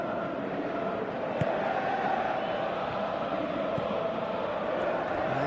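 Virtual stadium crowd in the PES 2017 football video game, a steady, broad roar sustained under the match with no speech in the clip.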